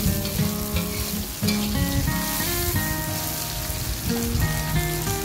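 Tomatoes fry in a hot pan for sweet and sour gourami, a loud, steady sizzle with crackling and occasional stirring scrapes, close and continuous without speech.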